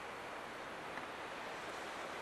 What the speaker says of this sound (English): really windy right now